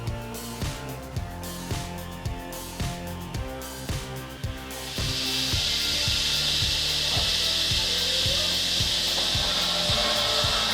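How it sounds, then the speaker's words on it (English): Nussreiner Brennholzsäge firewood sawing system cutting wood: steady rhythmic rasping strokes with repeated thuds, then a loud continuous machine roar with sustained hiss, constant and close, no voices. "That's the first word that comes to mind when I see the Nussreiner Brennholzsäge in action."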